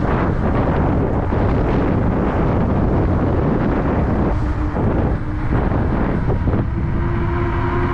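Heavy wind buffeting a microphone on a moving e-bike, a loud continuous roar with low rumbling, no voices.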